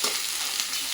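Peanuts and green peas roasting in hot oil with whole spices for soya pulao, a dense, continuous close-up sizzle lasting only a moment.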